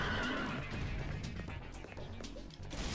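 Horse neigh from the video game Devil May Cry 3, a whinnying cry over a dense, noisy game soundtrack with scattered crashes and hits.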